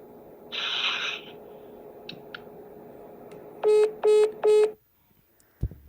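Telephone tones on a call: a long hum underlies a short high tone, a few faint clicks, then three loud evenly spaced beeps, followed by a brief click and near silence.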